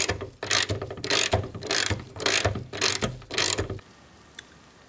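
A ratchet loosens the hood bolts on a Ford Focus, its loud rapid clicking coming in about seven close, regular strokes, then falling quiet apart from one small final tick.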